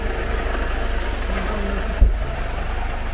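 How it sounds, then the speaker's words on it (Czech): A Mercedes 2-litre engine idles steadily up close with a constant low rumble and a faint compressor whine running through it, and a single brief thump partway through. "Slyšíš tam ten kompresor a ten je vždycky slyšet"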